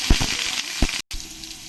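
Hot oil sizzles steadily in a wok with potatoes frying, with a few louder crackling bursts and one brief dropout of sound.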